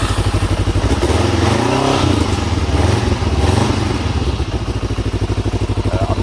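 A Kawasaki ER5 motorcycle with 21,000 miles on it fires up and settles into a loud, close, throbbing idle with a rapid regular engine pulse and some mechanical clatter.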